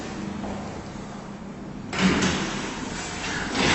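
Original-cab passenger lift doors at Capital on the Quay slide open and shut, a steady mechanical rumble that swells into a broader rushing whoosh midway, close and moderately loud with no talking.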